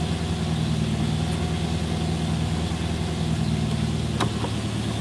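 A classic Mercedes W123 engine idles steadily and close by, a constant low rumble with a faint tick near the end and no one speaking.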